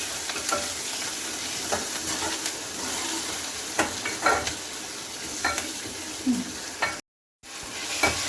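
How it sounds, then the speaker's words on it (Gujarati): Ginger and onion sizzle and fry in a pan while being stirred, a steady close crackle with repeated scraping stir strokes and a brief drop to silence near the end. "થોડું આદુ ડુંગળીને થોડી મસ્ત વિસળી જવા દઈએ"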